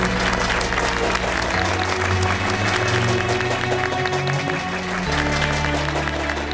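An audience claps steadily to encourage children lighting candles and lamps before their dance at a stage function, with a continuous wash of applause layered over loud music with a strong bass line.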